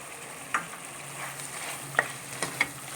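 Tomatoes hit a pan of frying masala with a soft, steady sizzle, a few faint clicks of a utensil stirring over the hiss, close and quiet with no talking.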